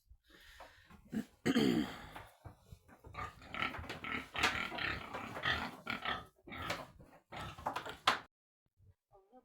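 Pigs grunt and snort in close, uneven bursts, some squeals mixed in, before falling quiet at the end.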